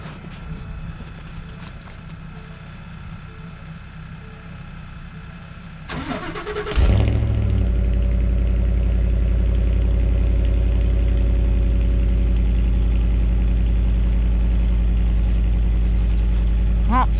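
A 2017 Ford F-150 5.0-liter Coyote V8 pickup engine cold-starts, cranking and roaring to life, then settles into a loud, deep, steady idle that continues without pause.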